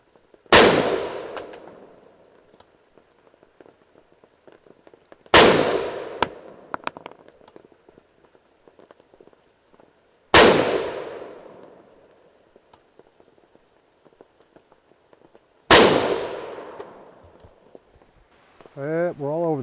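An SKS rifle firing 7.62x39 handloads, four sharp loud shots spaced about five seconds apart outdoors, each with a ringing decay, and a brief voice at the end.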